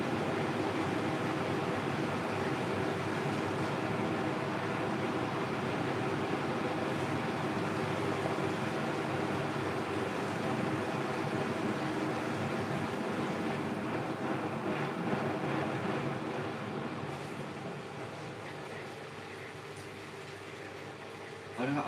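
A Hisense WFQP9014EVM washing machine holding a 13.5 tog duvet spins up with a continuous rushing, sloshing whir, fairly loud and steady before easing lower toward the end.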